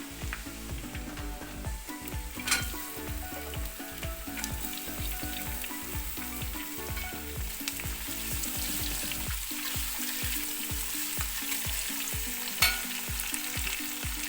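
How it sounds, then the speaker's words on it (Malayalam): Sliced onion frying and sizzling steadily in a pan for kappa biryani, with repeated scraping and clattering strokes as it is stirred, close and continuous throughout. "ഇതിലേക്ക് നമുക്ക് സവാള ഇട്ട് കൊടുക്കാം."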